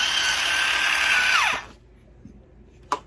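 Electric multi-cutter scissors trimming the edge of a tufted rug: a loud, close, steady motor whine runs, then winds down and stops, followed by a faint click and a short, sharp snap.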